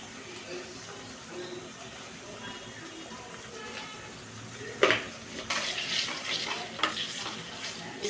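Ginger and turmeric frying in a pan make a low, steady sizzle, then a sudden clatter of stirring and a louder, busier frying sound in the second half.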